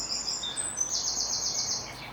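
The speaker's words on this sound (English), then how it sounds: "Is it early for robins?" A robin chirps outdoors in winter while feeding on soil under moved logs, giving a faint series of high, rapid, thin chirps and a trilling run over soft background hiss.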